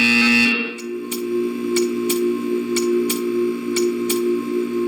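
A steady electronic buzzer in Portal 2 drones without pause, with a sharp repeated ticking sounding at a regular beat above it.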